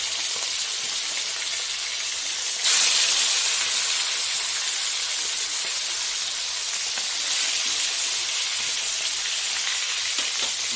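Fish frying in hot oil in a pan gives a steady, close, broadband sizzle for the whole stretch, with a louder crackling surge partway through and no talking.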